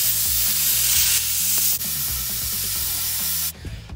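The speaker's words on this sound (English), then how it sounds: "now learning how to use the plasma cutter, getting a good straight line" A plasma cutter carves a Chevy logo out of sheet metal, giving a close, harsh hiss over a pulsing low machine hum that cuts off abruptly near the end.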